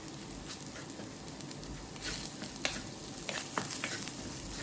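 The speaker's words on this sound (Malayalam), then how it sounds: "ഈ പൊടി ജസ്റ്റ് ഒന്ന് മൂപ്പിച്ച് ഒന്ന് എടുക്കണം" Garam masala powder frying in a pan for a karimeen (pearl spot fish) curry, a soft, quiet sizzle broken by scattered crackles and small pops and scraping stir strokes, with no talking.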